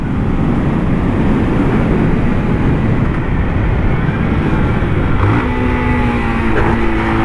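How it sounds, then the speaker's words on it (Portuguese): Rider's new motorcycle engine running steadily during a quick ride, with loud continuous low rumble and wind noise throughout, pitch rising toward the end as it climbs. "Primeiro rolezinho aí na nova motinha da Mil Grau,"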